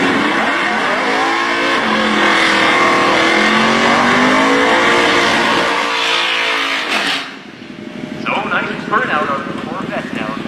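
Drag racing cars, among them a 5-liter Mustang, roar loudly as their engines rev and pull hard for about seven seconds, then the noise drops to a lower, rougher engine rumble.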